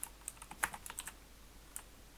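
Keystrokes on a computer keyboard, a quiet scattered burst of a dozen or so clicks clustered in the first second, then a lone tap after a pause, close and faint.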